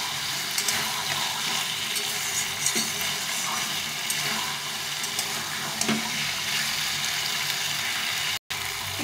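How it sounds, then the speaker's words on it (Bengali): Bottle gourd frying with spices in a pan for a Bengali gourd and fish curry, a steady broadband sizzle with watery bubbling and occasional soft spatula knocks, close and continuous, with no talking. "লাউটাকে ভালো করে কষিয়ে নিতে হবে, মশলার সঙ্গে যেন লাউটা মিশে যায়"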